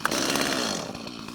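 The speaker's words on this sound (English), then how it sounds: "I'll go ahead and start the 250, even though I will not cut with it yet, just to get it warmed up." A STIHL MS250 chainsaw with a Hyper carburetor running after starting, a steady loud two-stroke engine drone close by, idling without cutting.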